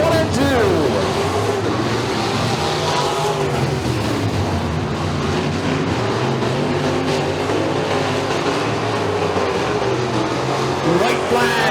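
Race cars lapping during heats at Bradford Speedway, a continuous engine drone with rising and falling passes that stays steady and loud, overlaid by an announcer's commentary.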